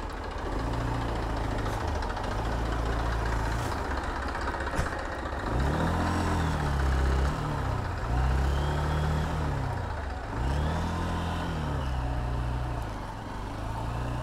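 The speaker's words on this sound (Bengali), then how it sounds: "বালুতে পড়ে গিয়ে চাকা শুধু ঘুরে আর ঘুরে" A vehicle bogged in sand on a hilly route near Chinaldi Beel spins its wheels, the engine surging in repeated rising and falling revs, loud and close over steady rumble.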